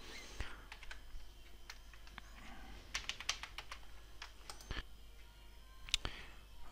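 Code being typed on a computer keyboard: quiet, irregular key clicks in short bursts, with some sharper isolated taps, close and alone.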